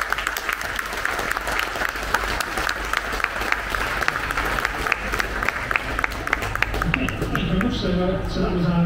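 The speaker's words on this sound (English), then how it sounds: "so they can hear your rapturous applause for their safe flight" An audience gives sustained applause after a drone lands safely from its flight, a dense, fairly loud clapping crowd that continues steadily, with a low rumble and some movement noise rising toward the end.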